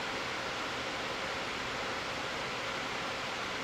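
Asus Strix G17 gaming laptop fans spinning in turbo mode, a constant airy hiss, slightly quieter and softer than full speed, steady for the whole stretch with no voices.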